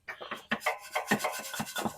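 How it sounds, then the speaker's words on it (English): Loose paint and rust being scraped and brushed off a rusty exhaust header, quick rhythmic rasping strokes, close and fairly loud, with no talking. "I'm just trying to get the loose paint off and the loose rust off"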